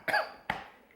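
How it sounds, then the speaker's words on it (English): Two close, dry coughs, the first longer and harsher and the second a short follow-up, with quiet room tone after. "I think you gave me your cough."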